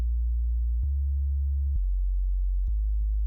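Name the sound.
synth sub bass from a free oscillator following bass progression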